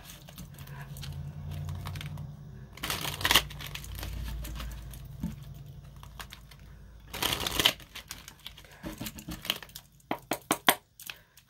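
Tarot cards being shuffled by hand at a reading table with tea leaves, a quiet riffling patter with two louder bursts of crisp card flutter and a few sharp slaps near the end.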